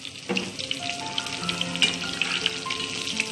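Cumin seeds crackle and sizzle in hot oil for a tempering, a continuous fizzing hiss with small pops, fairly close and moderately loud.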